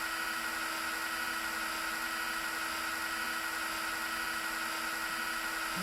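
Whining, high-pitched drill running nonstop in the video game Beyond the Edge of Owlsgard, a dense steady mechanical buzz at constant loudness throughout, with no talk over it.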